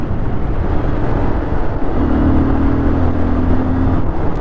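A Bajaj Pulsar 220F BS3 motorcycle engine, a loud, close, continuous rumble whose pitch climbs and holds as the throttle opens, steady with no breaks.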